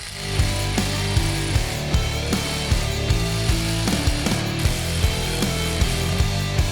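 Bolts on a 2018+ Audi transmission mount being driven in with a hand ratchet, a steady run of quick clicking ratchet strokes repeating close up for the whole stretch, no talk.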